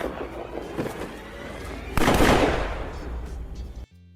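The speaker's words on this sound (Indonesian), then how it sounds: "Tapi sayang cuy, Jarwo malah kena tembak." Gunfire in an action movie scene with a mafia gang, a few sharp cracks followed by one loud close blast that trails off, set against a busy soundtrack.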